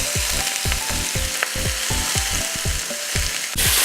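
Moroccan kofta kebabs sizzling in a non-stick pan, with a steady fry hiss under a rhythmic series of close scraping, clicking sounds as the pieces are turned, then a brief louder hiss at the end.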